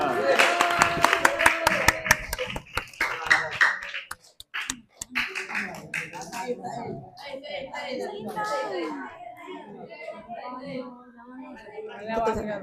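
Students at an Islamic boarding school clap for a student group after a bahtsul masail religious debate. A brief burst of sharp claps comes first, then people talk.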